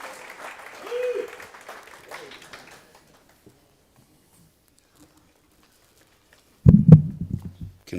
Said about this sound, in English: Glenn, give him a big round of applause